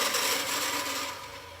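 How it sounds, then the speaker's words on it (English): A whisk scrapes and clinks briskly through molten lava cake batter with salt in a bowl, a steady close-up scratching rattle that fades slightly toward the end, with no talking. "I guess whisk it"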